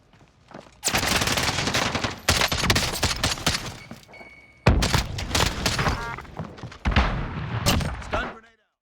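EBR-14 marksman rifle firing in Call of Duty Warzone, with loud rapid shots coming in several sustained bursts, booming reports and thuds, and someone talking over parts of it.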